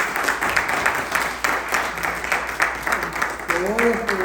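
A church congregation claps together, a dense steady patter of applause filling the room throughout, with voices and cheering mixed in and a sung or called-out voice rising near the end.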